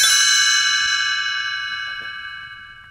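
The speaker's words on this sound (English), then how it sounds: "You will know it is time to turn the page when you hear the chimes ring like this." A bright chime rings out once as a page-turn signal and lingers, its tone slowly fading over a few seconds with nothing else around it.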